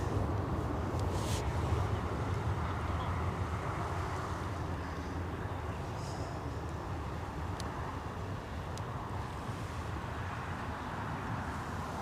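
A Ryanair airplane departs Newcastle International Airport, its jet roar a steady, distant rumble that holds evenly throughout with no talking.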